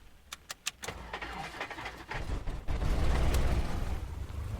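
The engine of a Cessna 172 in the A2A flight simulator starts up: a few sharp clicks and sputtering cranks, then a rumbling roar that builds and settles into a loud, steady idle, heard close.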